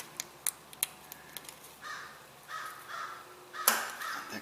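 A crow caws outdoors in a series of raspy calls at a moderate distance during a job with vice grips on a broken bolt, mixed with sharp metallic clicks and taps from nearby tool work.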